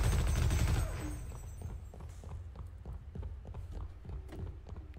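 Gunfire in the shooter game Half-Life: Opposing Force, a loud dense burst up front followed by a rapid string of lighter repeated shots over a steady background rumble, with no talking.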